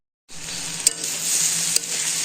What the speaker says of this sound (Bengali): আর আমি একটু ভাজা ভাজা করলাম মাছটাও ভেঙে গেছে